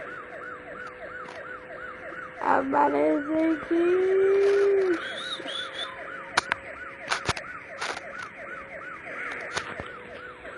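A wailing electronic siren from a Camaro cycles steadily in the racing game Asphalt Nitro, under game engine noise and music, while a person speaks briefly over it.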